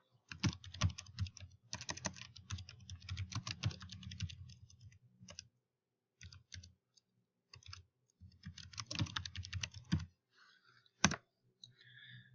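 Keys clatter on a computer keyboard while data is entered into a spreadsheet, with dense bursts of close typing separated by brief pauses and a single sharper click near the end.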